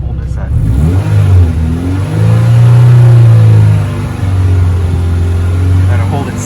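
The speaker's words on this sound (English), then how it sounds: "So if you rev it up here, hold this at." A car fitted with a loud performance exhaust is revved up and held steady around three thousand rpm, giving a deep, sustained drone that swells in the middle and stays loud and close throughout.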